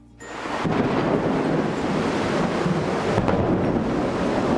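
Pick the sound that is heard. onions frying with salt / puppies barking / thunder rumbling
thunder rumbling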